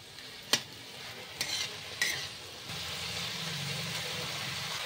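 Methi greens with salt, turmeric and sugar being stirred in a pan, a few scraping spoon strokes up close, then a steady soft sizzle underneath.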